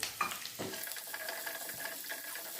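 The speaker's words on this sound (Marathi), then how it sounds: "आता मी यात घालते कांदा कांदा मी लांब लांब आणि अगदी बारीक चिरलेला आहे" Sliced, finely cut onion dropped into hot curry-leaf tempering for sambar, giving a soft steady sizzle with a brief splash at the start and faint clinks, close and moderately quiet, no talking.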